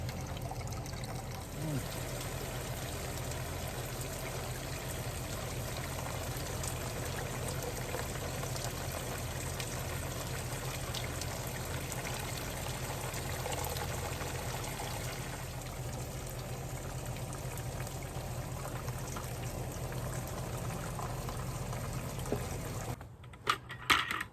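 Water poured onto double shredded mulch in a container, a steady continuous trickle and splash lasting nearly the whole stretch at close range before stopping abruptly near the end.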